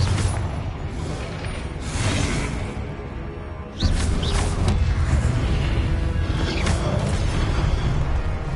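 A Confringo fire spell blast in the video game Hogwarts Legacy, whooshing bursts and crackling impacts that swell into a louder sustained roar partway through, amid game effects.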